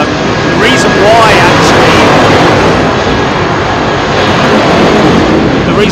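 A Boeing 787 Dreamliner jet roars loudly and steadily during its takeoff roll at London Heathrow Airport, a broad close engine rumble with faint talk beneath it.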